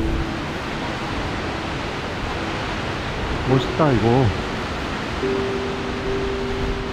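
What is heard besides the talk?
Skógafoss waterfall in Iceland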